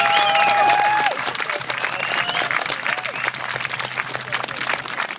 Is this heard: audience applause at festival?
yes